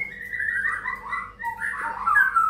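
A long-tailed white-rumped shama sings a continuous run of clear, sliding whistled phrases, close and fairly soft, ending with a brighter warbling flourish.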